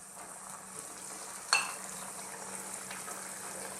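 Sapsap fish for sinigang drops into the cooking pot with one sharp splash, then a steady close hiss of simmering liquid carries on alone.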